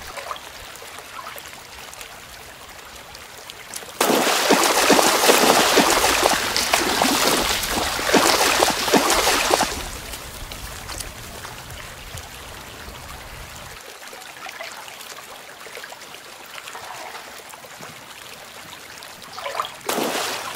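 Shallow stream water flows steadily in winter, with a louder stretch of rushing, splashing water in the middle before it settles back to a quieter trickle.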